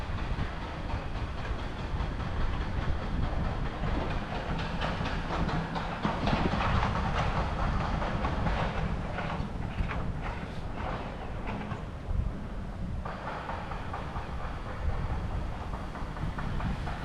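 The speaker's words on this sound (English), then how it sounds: "This is the like the slow train, and that's the high speed train." A train rolls along a railroad track in Taiwan, a steady near rumble with clickety-clack wheel rhythm and hiss lasting throughout, loud and continuous with no talking.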